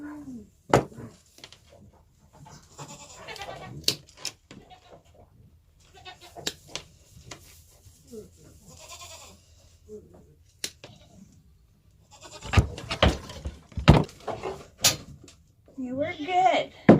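A goat bleats in short bursts between people talking, with louder calls and scuffling near the end.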